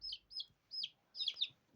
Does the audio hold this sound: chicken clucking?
yes